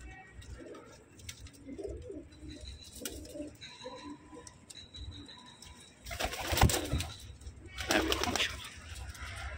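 Domestic pigeons give soft, low coos up close, then two loud bursts of wing flapping as the birds take off, with quiet rustling between.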